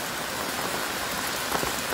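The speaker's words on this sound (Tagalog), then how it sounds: "Lumakas na naman ang ulan" Heavy rain pours steadily in Pangasinan, a dense, constant hiss of drops drumming on surfaces with no breaks, close and loud throughout.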